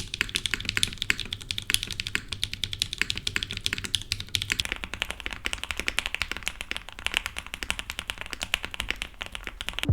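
Rapid typing on a QK65 custom mechanical keyboard, a steady dense stream of clacky keystrokes heard up close with no voices, the tone shifting slightly deeper partway through.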